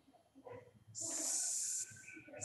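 A voice imitates a snake's hiss: a sharp, steady hissing breath held for about a second, preceded by faint murmurs and followed by a brief second hiss at the end, quiet overall.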